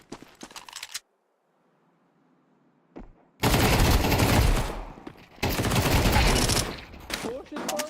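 Machine gun fire in a shooter video game, with a short clattering burst, near-silence, then two long loud sustained volleys of rapid gunfire close by.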